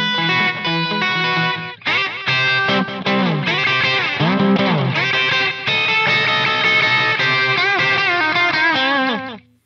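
Electric guitar played in a rockabilly style through a tape echo delay plugin with slight pitch wobble, loud and continuous, with a short pause near the start; no speech.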